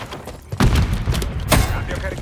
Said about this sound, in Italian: Granata partita!